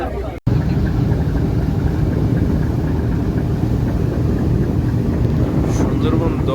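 Steady rumble of passenger launch ships racing and overtaking one another on a river, a continuous loud drone of engines and water with wind buffeting the microphone, no talk.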